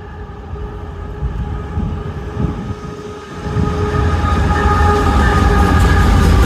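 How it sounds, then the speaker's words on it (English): A southbound CSX mixed manifest freight train rumbles past close by, a steady heavy roar with rolling wheel noise that swells louder midway and stays strong to the end. "This could be the Connersville train."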